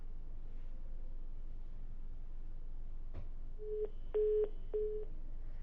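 A phone line on a TV news call-in show drops, leaving a low hum of open line and a click, then a few short, evenly spaced electronic disconnect tones.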